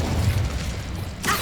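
The Incendio fire spell from Hogwarts Legacy on PS5: a low rumbling roar that ends in a bright, crackling burst of flame near the close, with no voices.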